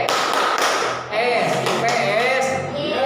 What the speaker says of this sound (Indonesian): mari kita tepuk IPS dulu ya